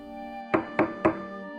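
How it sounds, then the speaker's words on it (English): Three firm knocks on a front door, evenly spaced and fairly close, sounding alone over a faint steady hum. "there was a stern knock of 3 on the front door"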